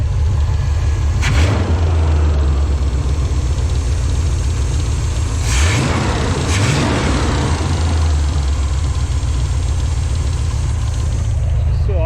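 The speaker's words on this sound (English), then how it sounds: "Still idling a lot better." A 1998 Chevrolet Camaro engine that has had overheating trouble idles steadily with a low, rumbling drone, nearby and continuous, with a couple of brief rises in pitch.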